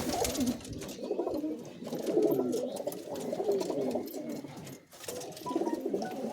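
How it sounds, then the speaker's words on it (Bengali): Giribaj pigeons in a rooftop loft, several birds cooing in overlapping, rolling calls at close range, continuous throughout with a brief dip near the end. "ভালো ভালো কোয়ালিটির পায়রা আছে দেখুন"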